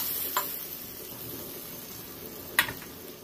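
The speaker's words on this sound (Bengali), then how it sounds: "ঝোলটায় কিন্তু জাল উঠে গেছে খুব ভালো করে" Fish curry gravy simmers quietly in a pan, a low soft bubbling hiss broken by two brief sharp clinks of a utensil.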